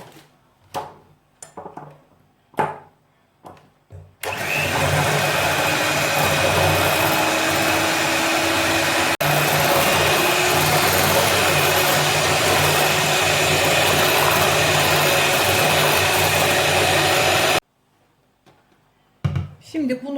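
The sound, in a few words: electric mixer whisking carrot cake batter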